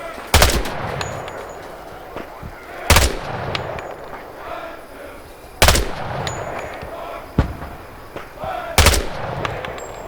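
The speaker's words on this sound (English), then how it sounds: "Shoot the targets ahead, aiming for the helmet to guarantee an instant kill." Rifle shots at training targets in the Vietnam-era shooter Hell Let Loose: Vietnam, about five sharp loud single reports spaced a couple of seconds apart with echoing tails and faint distant battle noise between.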